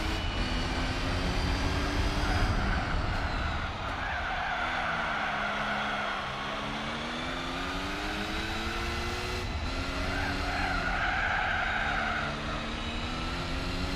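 A race car's engine drones steadily through gear changes and rising, falling revs on the Côte d'Azur street circuit in Gran Turismo 4, with tyre squeal running underneath, close and continuous throughout with no talking.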